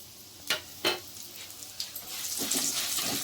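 Coriander seeds and cumin frying in a pan for Andhra gongura pachadi, a few sharp scraping stirs over a low sizzle that swells into a brighter crackle, close and without voices.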